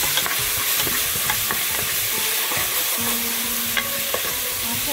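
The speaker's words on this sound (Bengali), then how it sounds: "মাছের মাথাটা ফ্রাই হচ্ছে" A fish head fries in hot oil with garlic and onion in a Bengali amra tok dish, giving a dense, continuous close sizzle with scattered stirring scrapes, loud and alone.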